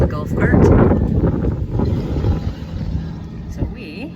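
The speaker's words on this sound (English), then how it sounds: "What to do on a windy day." Gusty wind buffets the microphone while riding in a golf cart on a windy day, a loud continuous rumble with voices talking over it.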